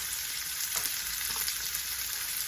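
Sauce fries in a pan with a steady, dense sizzle and crackle, close and continuous, with occasional stirring scrapes and no talk.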